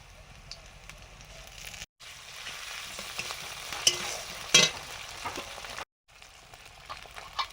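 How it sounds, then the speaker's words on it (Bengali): Kohlrabi, added raw without boiling, frying in a pan: close stirring scrapes over a crackling sizzle, with two brief cut-outs and a few sharper clinks of the spatula. "ওলকপিটা আগে দিলাম, ওলকপিটা যেহেতু আমি সেদ্ধ করিনি।"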